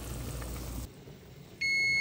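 After a stretch of background noise cuts out, a steady electronic beeping tone starts and holds loudly to the end.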